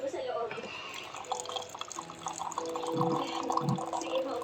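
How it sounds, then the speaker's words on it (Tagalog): Hot water is poured into a sweetened drink in a cup, a thin, steady trickle rising in pitch as it fills, fairly faint against background household noise. "lagyan natin ng mainit na tubig"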